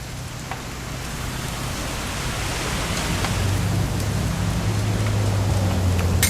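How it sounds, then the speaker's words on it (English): Steady rain falls in What Remains of Edith Finch, a dense, even hiss that grows slightly louder over several seconds, with a low rumble underneath and no voices. "It's gonna rain the whole weekend, isn't it?"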